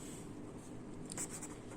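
Pen or chalk scratching out an equation by hand, a steady soft rasp with slightly louder strokes near the middle, no voices.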